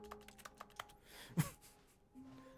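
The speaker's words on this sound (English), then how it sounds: "Sounds exactly like a keyboard." Glass in a video game gives off a quick series of light clicky taps that sound like keyboard typing, a few evenly spaced clacks followed by a single sharper hit, faint and close.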